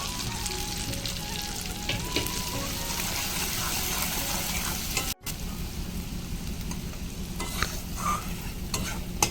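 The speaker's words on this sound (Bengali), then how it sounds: "আমি তেলের উপরে মশলাটা দিয়ে দিচ্ছি আর এক থেকে দু মিনিটের মতন মশলাটাকে কষিয়ে নিলাম" Chili powder, salt and turmeric fry in oil for a fish curry while being stirred. A steady close sizzle runs with scraping stir strokes and has one very brief break.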